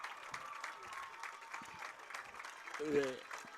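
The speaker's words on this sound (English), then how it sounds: "The fans are applauding as if the game is over" Football fans applauding in the stands at a boys varsity high school game, a faint spread of clapping from the crowd under a commentator's speech.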